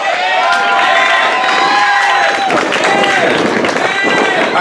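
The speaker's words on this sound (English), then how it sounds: "let's give another round of applause for our contestants" A live audience at a stage contest claps and cheers for the contestants, a loud continuous wash of applause with whoops and shouts, close and dense throughout.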